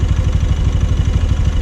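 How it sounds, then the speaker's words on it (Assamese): A motorcycle engine with 30,000 km of running idles up close, a steady low throb with a fast regular pulsing and faint clattering layered on top, with no talk over it. "এতিয়া বাইকখন পূৰা ষ্টাৰ্ট আছে"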